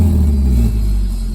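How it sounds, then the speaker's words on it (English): A Nissan S13 240SX yard find, started for the first time in over a decade, revs hard with a loud, close engine roar and low rumble that rises and then eases slightly, with no talking. "Revs out now."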